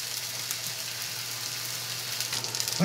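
Impossible Burger patties fry in a pan with a soft, steady sizzle and crackle, fairly quiet and close, with a brief scrape near the end.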